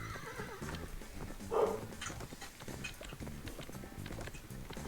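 Horses in a Minecraft race whinny once loudly and clop along at a gallop, set against steady game ambience and a faint voice under the sound.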